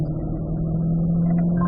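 A race car engine holds a steady, droning mid-pitched note as it accelerates through a turn on a circuit in third gear, a constant close rumble with no voices over it.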